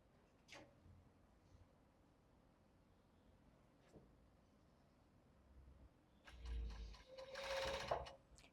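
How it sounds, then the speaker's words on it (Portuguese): Overlock sewing machine stitching tulle and lace for a bra: a quiet stretch with a few faint clicks, then a loud burst of fast motor-driven stitching near the end. "eu já vou unir aqui no overlock"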